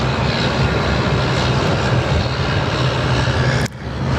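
An airliner passes at Sydney Airport with a loud, steady roar of jet engines that fills the whole stretch, then dips briefly near the end, with no talking.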